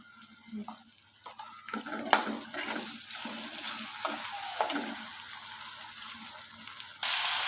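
Turmeric and red chili powder masala with salt frying in a pan, with a splash of water added: sizzling and spoon-stirring scrapes, steady crackle rising near the end as the hiss grows louder and continuous.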